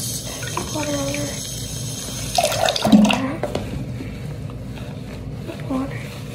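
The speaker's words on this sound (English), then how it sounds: "I'll just put water over" Tap water runs over a doll's hair as it is rinsed, a steady splashing stream with a brief louder surge midway, while a person talks over it.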